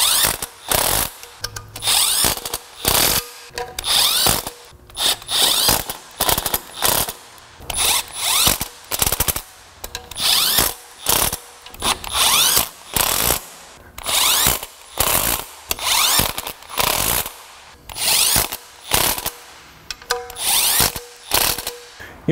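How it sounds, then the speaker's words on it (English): An impact wrench runs down oil pan bolts on a Mini Cooper engine, loud repeated bursts of rattling hammering, each lasting about a second with short pauses between, close and alone. "why did you run that down with that impact?"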